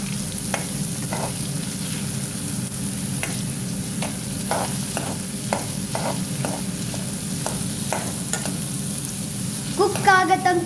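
Raw mango pieces being stirred in a frying pan, a steady bed of sizzling under repeated scraping strokes of a spoon, with a louder clatter of stirring near the end.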